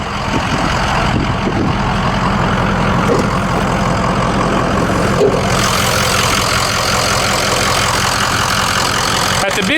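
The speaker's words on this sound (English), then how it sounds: "we have the 6-liter Powerstroke turbo diesel V8 overhead valve engine with 4 valves per cylinder" A 2004 Ford F350 Super Duty dually with a 6.0-liter Powerstroke turbo diesel V8 idles steadily up close under the open hood, a loud, dense, even rumble throughout while someone speaks over it.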